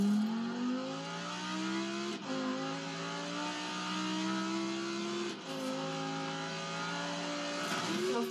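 A racing car engine in a Forza Horizon dirt championship race revs loudly and continuously, with rising and falling pitch as it shifts through gears, a few sharp breaks marking gear changes.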